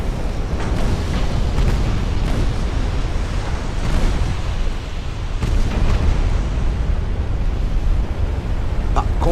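Ammunition cook-off aboard an 1890s-era warship in a naval strategy game, a sustained roaring rumble of explosions with repeated deep booms and crackling bursts running loud and continuous throughout.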